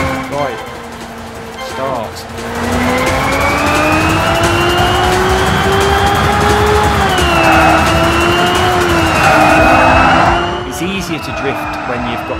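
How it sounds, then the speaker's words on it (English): Race car engine in the Xenon Racer video game, a steady sustained roar with rising and falling pitch as the car drifts through turns, tire squeal mixed in, with someone talking over it throughout. "You can't turn enough without drifting. It's useless without drifting."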